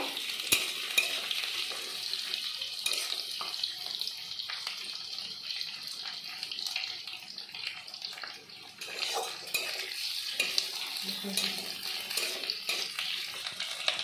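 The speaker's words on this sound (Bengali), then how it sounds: "দিয়ে দেবো ইলিশ মাছের মাথা, দিয়ে আমি একটু ভালো করে নেড়ে চেড়ে নেব।" A hilsa fish head fries in a pan with a constant hissing sizzle, while occasional soft scrapes of a spatula stir it at close range and no one speaks.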